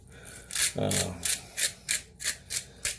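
A hand pepper grinder cranks fresh peppercorns over chicken salad, giving a run of about eight rhythmic raspy grinding strokes, close and fairly loud, with a short voiced sound near the start.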